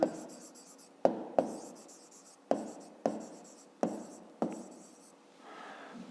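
A pen writes on paper while working a fifth-grade maths exercise, with short scratchy strokes coming in separate bursts about every second, each one fading out, quiet and close.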